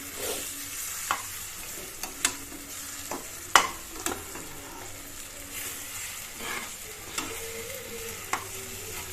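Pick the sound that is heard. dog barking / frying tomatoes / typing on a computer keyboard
frying tomatoes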